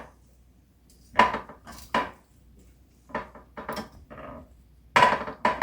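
Seasoned chicken pieces for oven barbecue are turned in an unoiled pan, giving several distinct clatters and scrapes of metal and utensil in irregular bursts, fairly close and loud, with no talking.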